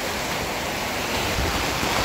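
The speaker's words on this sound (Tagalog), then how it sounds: "Lakas ng ulan" Heavy rain from Typhoon Uwan in the Philippines pours down in a steady, dense roar that stays loud throughout, with no voices.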